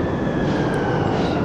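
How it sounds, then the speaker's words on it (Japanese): A steady low rumble with a faint whine, an airplane passing overhead in Splatoon 3's hero mode, continuous and fairly loud throughout the short moment. "飛行機も飛んでてすごい。"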